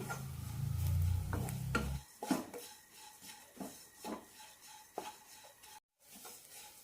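Grated coconut is dry-roasted over a medium flame and stirred constantly. Soft, rhythmic scraping strokes sound close and quiet, after a low rumble in the first two seconds.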